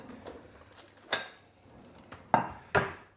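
A plate taken out in a kitchen, with a few separate clattering knocks of crockery, the last two louder and close together, between quiet pauses.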